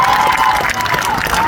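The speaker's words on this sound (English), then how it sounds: "Let's give her a round of applause." An audience at a 2025 high school graduation claps and cheers in a dense, continuous burst of applause, with crowd noise and scattered voices mixed in.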